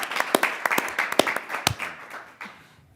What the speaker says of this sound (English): join me in a round of applause for our 2-time state championship Bountiful High girls basketball team